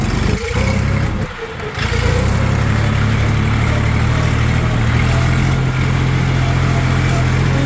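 A Jinma tractor engine runs loud and close in a steady low diesel drone with a brief dip near the start, then holds an even, throbbing idle throughout.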